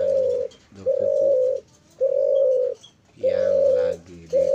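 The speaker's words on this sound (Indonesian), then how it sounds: "kali ini burung putar, burung cuhu dan dokuku" Caged doves, including zebra doves and spotted doves, about a dozen kept together in a box cage, cooing close by in long, steady coos separated by short pauses, with softer rattling coo notes in between.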